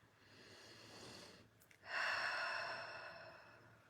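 One deep breath drawn in during a guided channeling meditation, a rising airy inhale swelling over soft background hiss, close and unaccompanied by talk.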